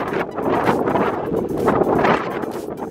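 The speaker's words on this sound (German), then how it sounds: "Wir haben aber auch einen Wind heute." Strong wind gusting outdoors during a mineral hunt in the Sauerland, buffeting the microphone with loud, continuous rushing noise that surges and eases.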